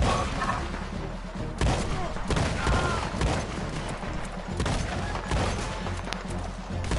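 Gunfire in Red Dead Redemption on PS5, a busy, dense exchange of shots with heavy thuds and crashes running throughout, with voices faintly present under the noise.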